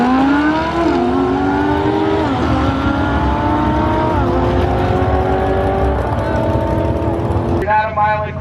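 A 2015 Lamborghini Huracan engine revs hard and loud through repeated rising gear pulls, pitch climbing and dropping in stepped shifts, then bouncing off the rev limiter at the end, close and dominant.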